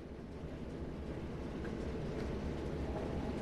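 A locomotive on the Tees Valley Line in Train Sim World rumbles steadily with a low, even drone, constant and unbroken throughout with no voices.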